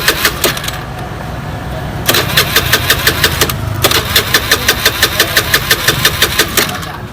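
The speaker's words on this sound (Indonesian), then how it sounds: "Kemudian kita hidupkan kunci kontak, kemudian kita starter." A Honda Beat motorcycle with its fuel injector removed is cranked on the electric starter, giving three bursts of rapid rhythmic whirring and clicking, close and loud, the last one running longest.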